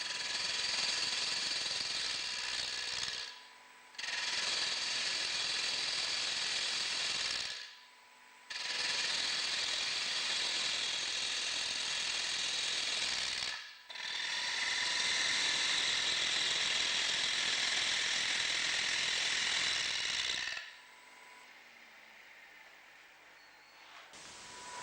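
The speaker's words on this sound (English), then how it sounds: "Then, turn the back or base of the bowl to the required shape." A wood lathe shapes the back and base of a bowl remounted on a faceplate ring, giving loud, steady broadband cutting hiss in four long passes separated by short pauses, alone without talk.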